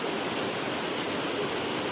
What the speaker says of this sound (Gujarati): વરસાદ તો સારો છે.